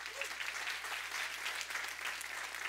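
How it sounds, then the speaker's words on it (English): Church congregation clapping for the Lord, a faint, steady patter of many hands heard from a distance over a low hum. "Give the Lord a big hand clap for that one."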